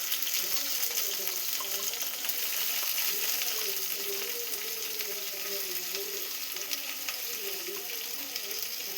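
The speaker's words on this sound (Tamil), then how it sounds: "கருவேப்பிலை, சின்ன வெங்காயம் போட்டுக்கோங்க." Curry leaves and small shallots fry in hot oil with fennel, cinnamon and cloves for a mutton curry, giving a loud, steady sizzle and crackle that runs unbroken throughout.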